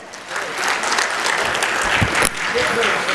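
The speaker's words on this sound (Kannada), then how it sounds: "ಹಾಶಿಂ ಪೀರ್ ವಾಲಿಕರ್ ಅವರಿಗೆ ಒಂದು ಜೋರಾದ ಚಪ್ಪಾಳೆ." A crowd at a Kannada literary conference in Vijaypur claps loudly and continuously, a dense burst of applause filling the space for a few seconds.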